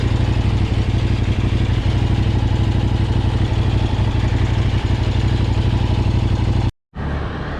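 Kove 800X Pro adventure motorcycle engine running steadily and loud close by, a continuous rumbling drone that cuts out abruptly near the end before resuming.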